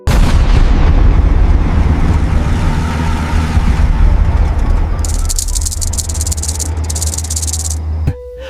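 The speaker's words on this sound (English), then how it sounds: "Experience the raw power of armored warfare as tanks conquer treacherous snow and scorching desert terrains, their cannons blazing." Military tanks fire their cannons, heavy booming blasts and rumbling armor noise dominating at first before giving way to rattling mechanical clatter and a sudden cutoff near the end.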